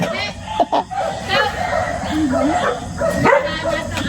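Dogs bark and yip in short bursts, mixed with whimpers and voices talking nearby.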